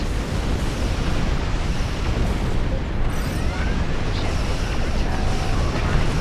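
A starship in the space game Star Trek Online takes heavy weapons fire, a dense continuous roar of blasts and rumbling impacts filling the whole stretch with no letup.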